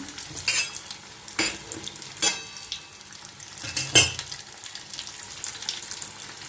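Samosas deep-fry in hot oil with a soft, continuous bubbling hiss, broken by a few sharp metallic clinks and scrapes from a utensil, close by and without talk.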